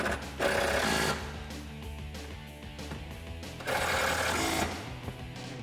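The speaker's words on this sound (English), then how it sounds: "Grab a 13mm socket and tighten these down." 13mm socket ratchet tightening bolts on a cold air intake for a 2017-2019 Super Duty 6.7L Powerstroke, heard as two bursts of rapid, close ratcheting clicks separated by a quieter stretch of metallic handling.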